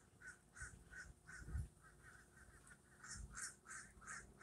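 A flock of geese honks repeatedly in a steady, overlapping chorus, moderately distant, with no talking.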